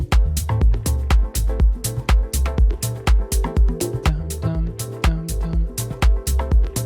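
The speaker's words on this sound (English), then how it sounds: "All of these synths are a Korg MS-20V preset," Korg MS-20V synth plugin playing an electric nylon preset as a tension layer, a fast rhythmic pattern of plucked, percussive notes with sharp attacks and quick decays, loud and close with no voices.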